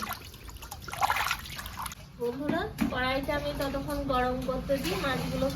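Running water trickles and splashes as freshly cut fish is rinsed clean, close and steady, with a person talking over the washing for much of the time.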